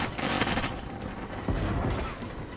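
Rapid gunfire from a multiplayer match in the video game Star Citizen, a dense, continuous barrage of overlapping shots with sharp bursts, loud and steady throughout.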